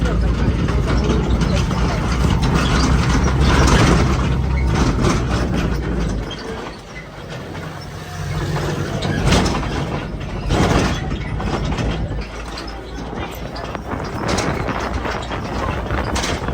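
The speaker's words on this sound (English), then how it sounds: "Now we're taking the tram back." Tram ride back to the cruise port in Mazatlan, Mexico, with a steady rumbling engine drone and mechanical rattles throughout, loud and continuous, with people talking over it.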